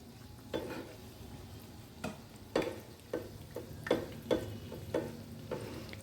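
Egg pakora frying gently in oil over low heat in a home kitchen, a soft continuous sizzle broken by several sharp clicks and light taps of a utensil, close and fairly quiet with no talking.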